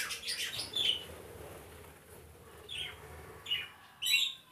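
Budgerigars in a cage give short high chirps and squeaky calls in scattered bursts, with quiet gaps between them, moderately close and fairly soft, with faint room noise underneath.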